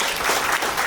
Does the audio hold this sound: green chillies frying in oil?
no